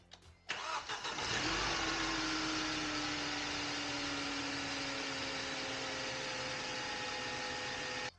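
Mercedes M271 engine starting up and then idling steadily and close, a continuous mid-pitched engine drone with a faint whine for about eight seconds; the revs seem to shift slightly, and no one speaks.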